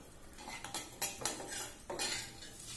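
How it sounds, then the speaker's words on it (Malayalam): Toor dal being dry-roasted in a pan over a low flame, stirred with a metal spoon that scrapes and clinks against the pan in several short, close bursts over a steady faint hiss. "തുവരപ്പരിപ്പിട്ട് ഒന്ന് വറുത്തെടുക്കണം ലോ ഫ്ലെയിം വെച്ച് നമുക്കൊന്ന് നന്നായിട്ടൊന്ന് വറുത്തെടുക്കണം"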